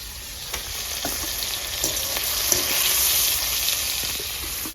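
Onion, ginger, garlic and green chili fry in a pan, a steady bright sizzle with a few stirring scrapes and taps, swelling slightly toward the end.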